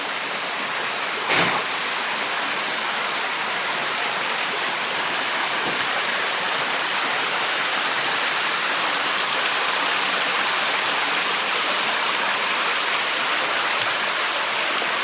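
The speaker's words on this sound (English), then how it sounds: "Nice little cascade waterfall." A small cascade waterfall inside a cave gives a constant, dense rush of splashing water, steady and fairly loud throughout with no talking.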